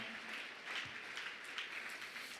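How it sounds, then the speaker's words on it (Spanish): A church congregation at a revival service applauds, making a faint, distant, continuous patter of many hands clapping that runs for a couple of seconds. "Dale un aplauso a Cristo esta noche."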